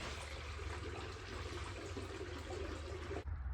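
Water poured through a funnel into the radiator of a 1993–98 Jeep Grand Cherokee ZJ with a 5.2 engine, a steady broadband rushing splash that runs close and unbroken for about three seconds before cutting off abruptly.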